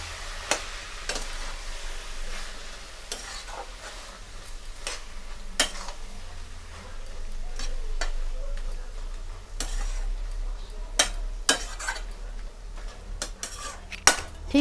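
A utensil clinks and scrapes against the pan while cabbage and prawn curry with potato is stirred, sharp metallic taps scattered over a faint sizzle, close up.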